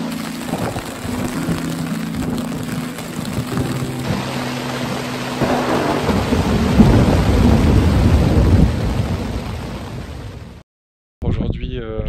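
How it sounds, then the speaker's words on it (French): Thunderstorm with heavy rain outdoors, a constant roar of downpour with a deep rolling rumble of thunder swelling in the middle, then a brief dropout before the rain noise resumes. "Il finit plus de pleuvoir."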